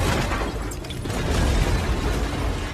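A continuous, loud roar of blasting and rumbling debris from an explosion in a Cold War spy superhero film scene, with no clear voices.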